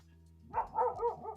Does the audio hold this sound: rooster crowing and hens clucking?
no